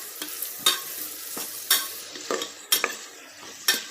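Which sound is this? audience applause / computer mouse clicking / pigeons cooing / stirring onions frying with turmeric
stirring onions frying with turmeric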